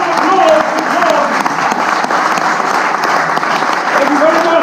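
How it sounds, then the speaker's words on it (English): Audience applause for a volunteer at a live magic show, a dense steady wash of clapping from a crowd, loud and close, with a voice faintly speaking over it. "Ladies and gentlemen, a huge round of applause for John."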